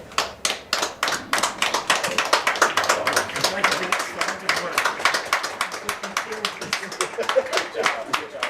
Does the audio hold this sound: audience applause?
yes